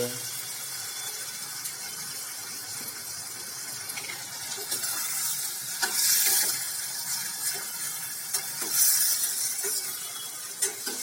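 Green peas, green chillies, tomatoes and green garlic are dropped into hot oil for a pea and potato curry, so a soft hiss swells into a louder crackling sizzle in bursts with occasional stirring clinks, all close and without speech.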